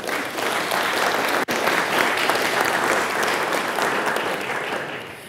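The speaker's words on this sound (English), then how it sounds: "Can we have a round of applause for them?" Audience at a cultural innovation conference applauding a panel, a dense, sustained wash of clapping from a full room that holds steady for several seconds before beginning to fade.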